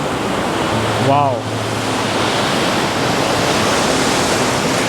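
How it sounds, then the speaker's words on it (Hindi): High ocean waves break on the beach at Catherine Hill Bay, New South Wales, a loud, constant roar of surf; a person briefly exclaims over it near the start. "तो आप देखिएगा काफ़ी ऊंची ऊंची लहरें जो है वो यहाँ पे फ़िलहाल आ रही है।"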